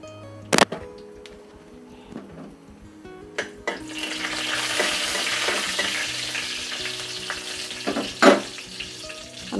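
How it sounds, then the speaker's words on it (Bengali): Chili and nigella seeds frying in hot oil for a Bengali raw papaya ghonto give a steady close sizzle that swells partway through, with a few sharp clinks of a utensil against the pan. "মরিচটা ভাজা হয়ে গেছে, এখন আমি এর মধ্যে দিয়ে দিব 1/2 চা চামচ পরিমাণ কালো জিরা।"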